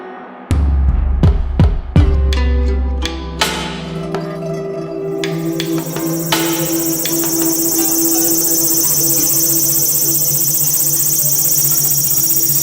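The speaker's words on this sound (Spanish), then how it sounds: "con todos los grillos estos que suenan por todos los sitios donde hay parques y bosques" Crickets chirp in a dense, continuous high-pitched drone across Kenrokuen garden in Kanazawa on a hot, humid day, the insect chorus loud and steady after a few sharp knocks at the start.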